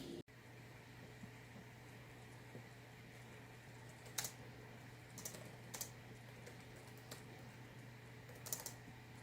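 Soft computer-keyboard typing during a writing session comes in short scattered bursts of clicks over a low, steady room hum, quiet and close in an otherwise still space.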